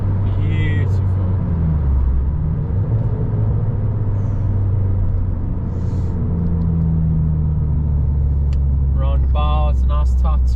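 Abarth 595 exhaust rumbling while driving, a deep continuous low drone with shifting engine tone heard from inside the car, loud and steady, with brief talking near the start and end.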